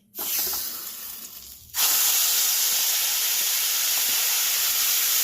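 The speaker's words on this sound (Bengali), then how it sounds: "এবার কড়াইশুঁটির পেস্টটা আমি দিয়ে দিচ্ছি।" Green pea paste hitting hot oil in a kadai, setting off a sudden loud, steady hiss that jumps up and holds unbroken after a quieter first moment.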